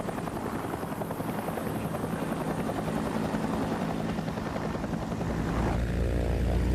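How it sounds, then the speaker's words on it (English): A Huey military helicopter flies by with a loud, continuous rotor thrum and engine drone that holds steady and deepens slightly toward the end, with no talking. "Helicopters quickly proved their merit in this role, and the Huey paved the way for armed close air support."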